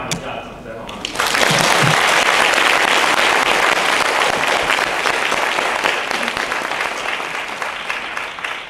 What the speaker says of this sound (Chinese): 让大家给他们一下掌声好吗？